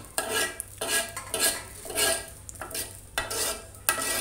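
A utensil scrapes milk cream from the sides of a pan while bread roasts for shahi tukda, repeated close scraping strokes with a faint sizzle underneath and no talking.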